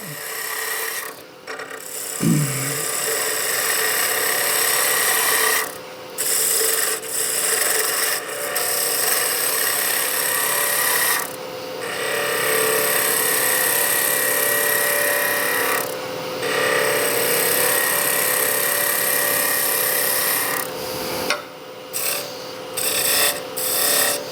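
A skew chisel, held low and peeling, cuts spinning wood on a lathe with a continuous close rasping, shearing sound, broken by several brief pauses as the tool lifts off.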